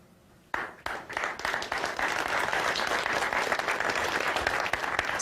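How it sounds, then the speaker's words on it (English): An audience breaks into clapping after a few sharp single claps, quickly building into dense, steady applause that carries on at a fairly even level to the end. "some sporadic clapping"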